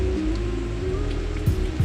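Rain falls steadily on a surface, a soft continuous patter with a few louder drops, close and alone without talk.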